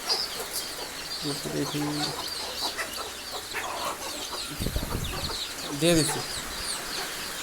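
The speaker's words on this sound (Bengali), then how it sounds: "সবগুলো মুরগি ভিতরে এসে পড়ছে" Chickens cluck inside a henhouse where they have sheltered from heavy rain, brief calls scattered through steady rain noise, with a person talking over them.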